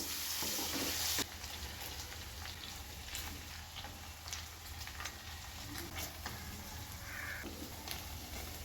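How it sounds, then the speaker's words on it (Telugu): Paneer cubes frying in butter and oil in a pan, a steady soft sizzle throughout, brighter and hissier for the first second, with light stirring clicks and no voices. "కొద్దిసేపు వేయించుకోవాలి."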